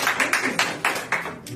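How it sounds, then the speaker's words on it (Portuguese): A church congregation at a family worship service claps together in a steady, brisk rhythm, the claps loud and close, filling the room. "Se assente aplaudindo ao Senhor."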